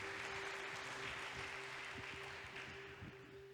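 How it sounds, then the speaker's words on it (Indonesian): A church congregation claps together, a soft, distant and continuous patter of hands over a steady low hum from the hall. "Tepuk tangan bagi Allah."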